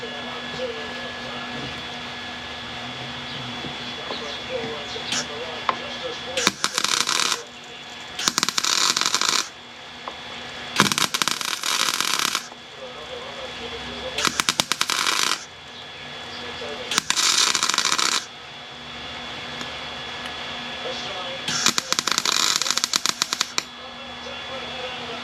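Steel being cut for a car floor panel patch during footwell repair, several loud harsh bursts of cutting lasting a second or two each, separated by quieter shop background.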